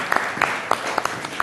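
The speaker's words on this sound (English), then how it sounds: "Let's give a round of applause for Jenny." An audience gives a brief round of applause, a quick scattering of separate claps spaced irregularly over a second and a half rather than a dense roar.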